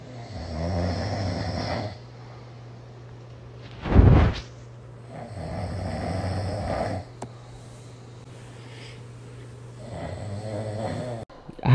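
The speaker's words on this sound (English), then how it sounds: "I have a Snapchat of you snoring so freaking loud, I'm gonna put it in here." Loud, slow snoring from a sleeping person, replayed from a phone recording, with a few drawn-out rumbling breaths and one sharp snort in the middle, close and alone without talk.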